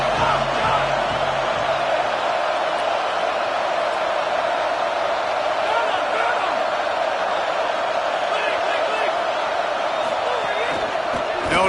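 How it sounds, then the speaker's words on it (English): A stadium crowd roaring in a college football video game, a dense, steady wall of cheering that holds loud for the whole stretch as the defense makes a stop, with broadcast commentary barely evident. "Listen to this crowd just shaking the girders of this place,"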